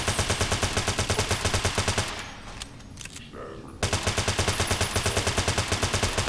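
Rapid automatic gunfire with armor-piercing ammunition in the video game Fallout: New Vegas rattles in fast, even bursts, breaks off for about two seconds, then resumes just as loud and steady.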